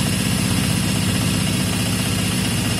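A Yamaha XJ550 motorcycle with an intermittent fault idles at raised revs, a loud, steady, close engine drone with a fast, even throb throughout.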